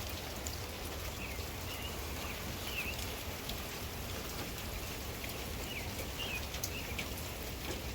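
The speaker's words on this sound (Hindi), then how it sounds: "देखा आप लोगों ने कितनी बारिश हो रही है" Steady rain falls continuously, a dense patter of drops on surfaces with a constant hiss, and faint birds chirp now and then in the background.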